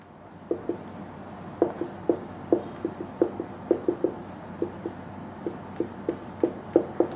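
Rapid, rhythmic strokes and taps of writing on a board during a hydrocarbon chemistry lesson: about twenty crisp, close ticks in irregular bursts over a faint room hum, with no talking.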